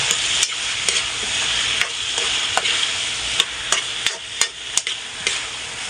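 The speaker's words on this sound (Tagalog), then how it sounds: "Tapos halo-haloin lang siya para mahalo yung mga ricado." Squid for adobong pusit is stirred with spices in a pan, a steady bright sizzle with a dozen sharp scrapes and taps of the utensil spaced irregularly through the frying, close and fairly loud.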